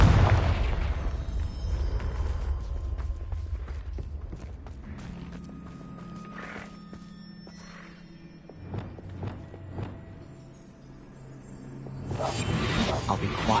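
A Confringo blasting spell goes off in a Harry Potter video game set near a Thestral nest, a deep booming explosion with rumbling bursts, then quieter thuds and a loud rush of debris and noise toward the end.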